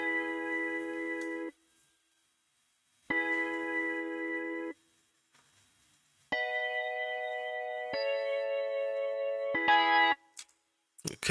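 An organ synth preset in FL Studio plays chords in separate sustained blocks, with brief silences between some of them, the later chords higher and brighter, clear and close.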